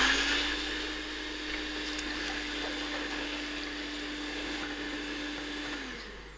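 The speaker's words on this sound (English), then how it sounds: "So I am going to use my mixer and mix this till it froths." An electric mixer whisks egg whites until frothy with a steady, close, whining motor drone that holds one pitch throughout, then winds down and stops at the very end.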